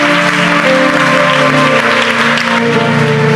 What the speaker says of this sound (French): Acclame bien et on va en parler maintenant.